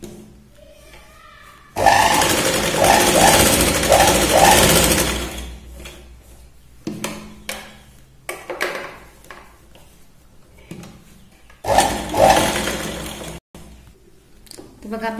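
A sewing machine stitches tucks into a blouse in two loud, steady bursts of running, with quieter stops, handling and short restarts between them.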